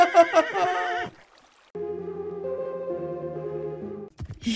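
A horse neighs loudly in the Minecraft video game, a rapid quavering whinny, followed after a short gap by a steady game music tone and a brief trailing sound at the end.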